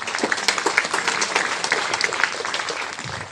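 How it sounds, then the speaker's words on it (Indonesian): Dense, steady applause from a crowd of students at a Monday flag ceremony at a state senior high school in Sikka, East Nusa Tenggara, sustained and fairly loud for the whole stretch without voices. "Tepuk tangan untuk kalian semua."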